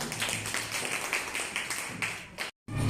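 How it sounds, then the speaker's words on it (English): Children clap together in a classroom after a word game, making a quick, regular run of claps at moderate volume. The clapping breaks off briefly with a short silence, then starts again. "Clap for them."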